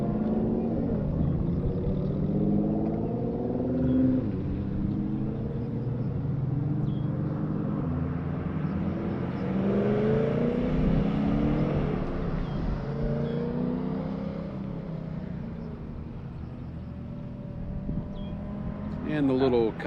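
A Corvette race car, the Bob and Ted's Excellent Adventure entry, drives during a practice session at Memphis, its engine a steady loud rumble with rising and falling revs throughout, while commentary talks over it.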